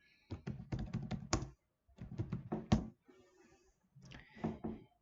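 Keystrokes on a computer keyboard tapped out in three quick bursts separated by short pauses, close and fairly loud, while a description is entered in Cubit cost-estimating software.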